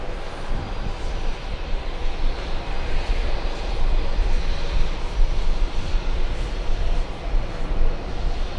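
Airplane landing on runway 22 left: a loud, steady broadband engine roar that holds without a break throughout.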